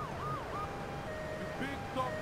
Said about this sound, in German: Ein Krankenwagen, natürlich rette ich auch Kolumbianer.